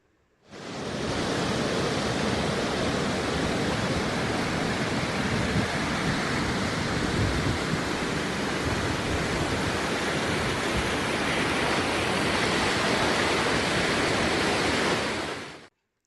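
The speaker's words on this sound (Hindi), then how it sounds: "आगे तो बहुत ज़्यादा फोर्स में पानी आ रहा था" A forceful mountain stream in Gulmarg rushes steadily and loudly, a dense unbroken roar of water that holds at full strength for over fifteen seconds with no voices.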